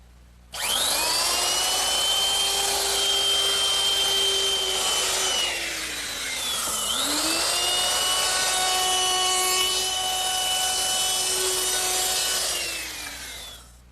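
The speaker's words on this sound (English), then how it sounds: "I want to round over all the edges using my router with a 1/4" rounding over bit" Electric router with a 1/4-inch round-over bit rounding the edges of wooden Adirondack chair pieces set on a foam pad, a loud, steady high-pitched whine that dips briefly mid-pass and then recovers, with no talking.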